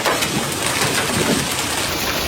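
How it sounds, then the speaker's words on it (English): Hailstorm in the Triad area of North Carolina, with hailstones over an inch across, hammering down as a loud, dense, unbroken clatter and roar that fills the whole stretch, with no voices. "WFMY News 2 meteorologist Tim Buckley was at home when the hail started in the Triad"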